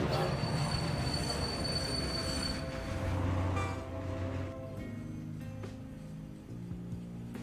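Trains running in the video game Captain of Industry, a steady loud rumble of railcars with squealing wheels and a rising metallic screech, continuous throughout without talk.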